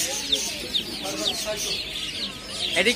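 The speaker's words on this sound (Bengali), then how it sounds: "এটা কি মুরগি ভাই?" Chickens cluck and other birds chirp throughout a pet bird store, a busy, moderately loud mix of short calls with faint voices in the background.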